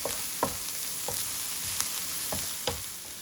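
Vegetables for a holiday stuffing sizzle steadily in a pan, with a few sharp clicks and scrapes of stirring at irregular intervals, close and without talk.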